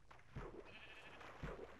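Two short bleats come from sheep in Minecraft Bedrock Edition, spaced about a second apart and faint over a quiet background.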